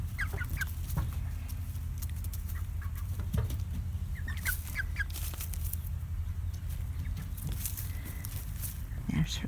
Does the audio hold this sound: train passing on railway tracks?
no